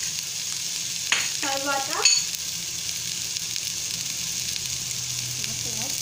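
Onions fry with turmeric in a pan, making a steady, close sizzle, with a brief clatter of stirring and a few spoken words over it.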